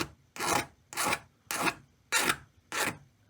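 Filing down HO scale steam engine kit parts for a tender, five even rasping strokes at a steady rhythm, close and crisp with short pauses between them.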